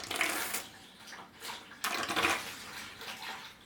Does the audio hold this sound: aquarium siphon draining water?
yes